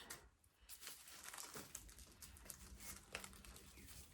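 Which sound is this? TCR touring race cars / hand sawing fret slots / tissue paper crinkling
tissue paper crinkling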